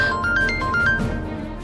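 A melodic phone ringtone plays a short repeating tune of bright electronic tones, fairly close, over a low background hum.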